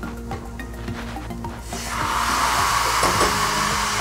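Quiet scraping and clinks of stirring spices give way to a sudden loud, steady sizzle as chicken drops into the hot frying masala for a Kerala chicken mulakittathu.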